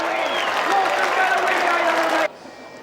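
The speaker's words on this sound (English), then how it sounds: "Listen to the crowd reception when he crosses the line here." A crowd at the Stawell Gift footrace cheering as the runner crosses the finish line, a loud dense roar of voices and clapping that cuts off abruptly near the end.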